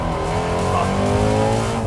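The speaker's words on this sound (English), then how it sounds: "that demonic growl that you hear coming from the exhaust" A Ford Mustang GT350 exhaust growls deep and steady close by, a constant loud rumble holding one level without a break.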